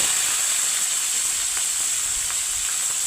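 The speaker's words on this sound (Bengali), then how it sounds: "মাছটা ভাজা হোক" Katla fish pieces fry in white oil, giving a steady, loud, even sizzle with a bright hiss and faint crackles and pops scattered throughout.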